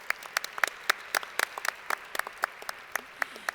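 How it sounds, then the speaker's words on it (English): A modest audience at an annual service recognition celebration claps. The sharp individual hand claps are distinct and irregular, at moderate distance, with no talking over them. "Please give them a round of applause for being such great partners."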